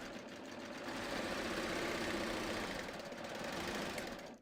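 A serger stitches elastic into a circle with a flatlock stitch, giving a steady, fast mechanical whir that runs close and unbroken for the whole stretch, with no voices.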